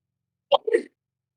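A single short, sharp sneeze close to the mic, a quick burst followed by a brief voiced trailing sound, then silence.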